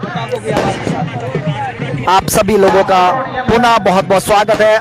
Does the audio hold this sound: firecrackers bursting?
yes